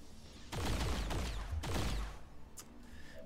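Several bursts of soldiers' gunfire in XCOM 2: two loud volleys with a booming low rumble, each trailing off with echoes, then a quieter tail of game ambience with a faint click.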